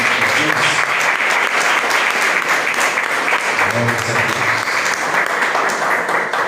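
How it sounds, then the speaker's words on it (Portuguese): A church congregation applauds during a Sunday service, loud, sustained clapping from many people, with a voice briefly heard beneath it. "Você pode receber a sua irmã aplaudindo o Senhor."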